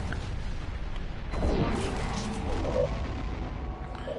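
Torpedoes launching in a PSVR space combat video game: a dense rumbling whoosh with a booming swell partway through, sustained and loud within a noisy game soundscape, no talk.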